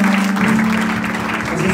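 A church congregation claps as an offering to the Lord during a worship service, loud, close and continuous, with a steady tone humming beneath the clapping.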